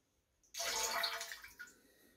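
Water pours in a steady, close rush for about a second, then tapers off with a few trailing splashes, filling a CIP washing system before brewing.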